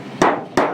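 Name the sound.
hammering folded metal corner on outer cover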